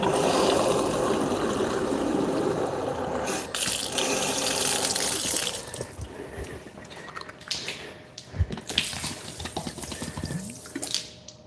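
Water gushes steadily from a tap as a soap bottle for a foam cannon is rinsed, then gives way to splashing, dripping and handling sounds as the flow stops.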